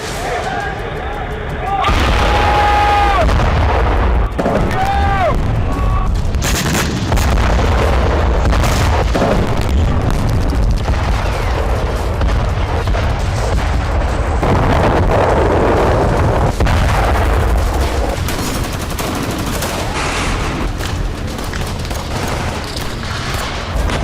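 Heavy booms and explosions mixed with gunfire from Israeli strikes in Gaza, loud repeated blasts with wind buffeting the microphone and a voice talking over parts of the chaotic scene.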